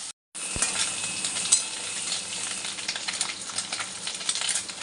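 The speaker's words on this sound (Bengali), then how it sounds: "দেখুন বন্ধুরা আমার মাছটা ভাজা হয়ে গেছে এবার তুলে নেবো" Small mourala fish fry in hot oil in a pan, giving a steady close sizzle and crackle with occasional stirring scrapes throughout, with no voices.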